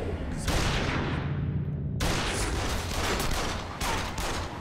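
Dense, sustained gunfire from a shootout in the Yakuza 1 video game, with heavy bursts continuing throughout; a short gap near the middle breaks it before the shooting resumes.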